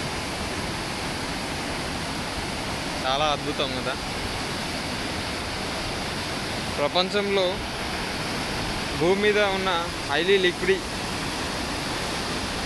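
Steady broadband roar of the Chelimela waterfall near Thiryani, continuous rushing water and mist that stays under someone speaking in bursts throughout.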